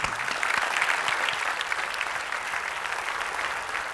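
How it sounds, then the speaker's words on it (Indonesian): A studio audience applauds continuously at a televised Indonesian political debate show, with dense, steady clapping that fades slightly toward the end. "Luar biasa, tepuk tangan."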